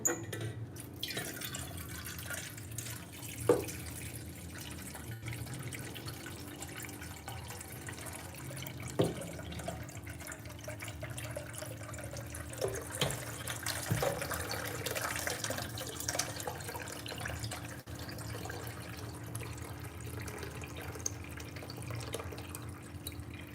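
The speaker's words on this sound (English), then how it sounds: "So I'll add some water on my sufuria." Water poured into a sufuria cooking pot in a home kitchen, a steady close splashing and trickling that runs for most of the stretch with a few sharper drips and knocks, no talking.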